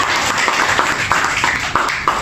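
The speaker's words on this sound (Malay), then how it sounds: "Okey, berikan tepuk tangan." Classroom applause during a teaching practicum lesson: a steady wash of many hands clapping together, loud and continuous, with a few sharper claps standing out from the crowd.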